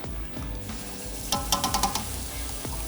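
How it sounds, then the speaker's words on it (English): Celery and tomato paste sizzle in a pan over a gas burner, a steady close frying hiss with a cluster of sharp crackles and spatters near the middle, with no talk. "You're gonna start hearing that sizzle."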